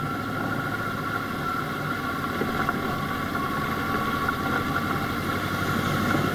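A motorcycle engine idles steadily nearby, a continuous mid-pitched mechanical drone with a faint tonal whine that holds even throughout.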